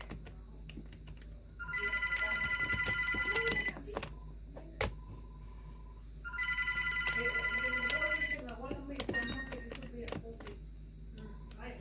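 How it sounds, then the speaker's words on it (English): A telephone rings in the video game Airplane 2 in two long, loud bursts of rapid electronic trilling, separated by a pause filled with clicks and light tapping. "And then the phone is ringing."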